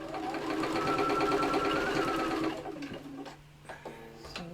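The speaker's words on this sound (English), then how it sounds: "I'm trying to sew as close to this folded edge, okay, to make sure that I catch everything that's underneath." A sewing machine stitches along the folded edge of a fabric vanity case, a steady, close mechanical whirr for about two and a half seconds before stopping, followed by a few soft handling knocks.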